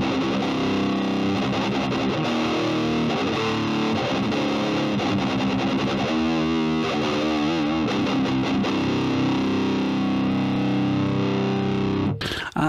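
Distorted electric guitar riffing through a Presonus Ampire High Density amp simulator, thin on bass but aggressive, a steady dense stream of chords and single notes with a brief swirling passage midway, ending abruptly.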